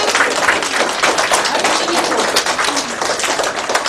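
Applause from a school audience at a Knowledge Day award ceremony, steady dense clapping throughout, loud and close, with murmured voices mixed in.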